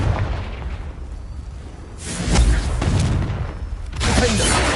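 Confringo blast curse exploding in Hogwarts Legacy: loud bursts of broadband crackling roar, one swelling in around two seconds in and another near four seconds, each rumbling on with debris-like hiss over continuous game ambience.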